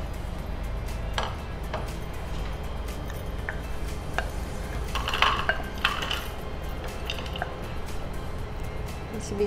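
Dishes and cutlery clink softly while hot okra mixture is served in a kitchen, scattered light taps and scrapes over a low steady hum, with no one talking.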